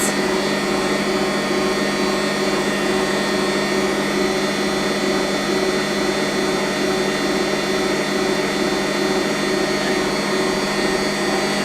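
A stand mixer kneads cinnamon roll dough with a steady, loud motor whir that holds unbroken and even for the whole stretch, with no talking.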